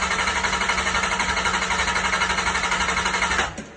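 A 1982 Datsun 280ZX turbo engine cranks steadily without catching, with no pulse to the injectors, a rapid rhythmic whirring pulse that runs for several seconds, then abruptly cuts off.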